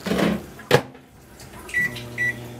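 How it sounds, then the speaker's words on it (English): A microwave oven heats a bag of frozen vegetables such as string beans or broccoli in a cramped kitchen. A sharp door thump comes first, then a low hum and two short, clear beeps. "I can take a bag of a frozen vegetable. It can be string beans, broccoli, throw it in the microwave."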